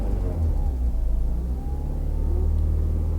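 A car engine revved as the driver gives it gas during a diagnostic scanner check, a steady deep rumble that rises and swells, close and loud, with no talking.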